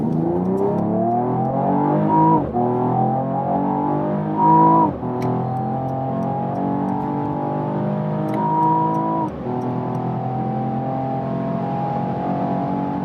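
A car accelerating hard from about 40 to 200 km/h, its engine note rising loudly and repeatedly through several gear changes, each marked by a brief dip before the pitch climbs again, heard close from inside.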